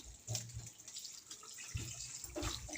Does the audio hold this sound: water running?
yes